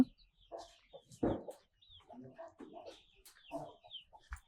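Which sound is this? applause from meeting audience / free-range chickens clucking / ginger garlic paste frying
free-range chickens clucking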